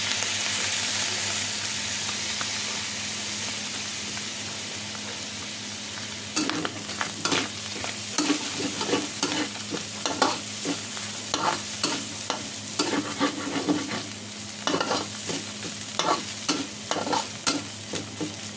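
Meat and a little dried fish being stir-fried in a pan for a vegetable lumpia filling: steady sizzling hiss, then about twelve seconds of repeated utensil scrapes and clinks in an irregular rhythm, close and fairly loud, with no voices.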